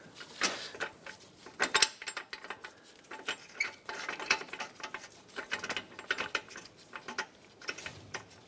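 A bolt is threaded by hand into a car's control arm during a 2010-2016 Cadillac SRX repair, giving close, irregular metallic clicks and scraping ticks in quick bursts.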